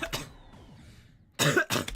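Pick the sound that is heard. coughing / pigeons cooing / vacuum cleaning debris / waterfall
coughing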